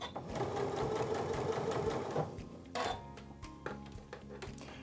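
A sewing machine fitted with an HP foot and plate stitches fabric in a close, rapid mechanical chatter, then stops and gives a few short bursts of stitches with clicks in between.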